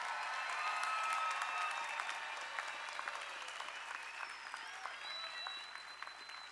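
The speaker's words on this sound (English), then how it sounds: "Let's give our students a round of applause" Large outdoor crowd applauding at a Los Angeles City College commencement, a dense sustained roar of many hands with scattered whistles and cheers, gradually easing off toward the end.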